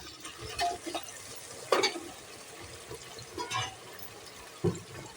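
Cut carrot and potato pieces go into a pan for veg fried rice, giving a few scattered stirring scrapes and soft clatters over a quiet background sizzle.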